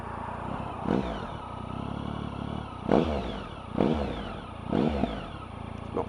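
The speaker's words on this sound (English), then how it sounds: "it just has a lovely little burble" A Triumph Tiger motorcycle fitted with an SC Project exhaust idles nearby with a low, steady burble, punctuated by four short blips of the throttle that rise and fall back.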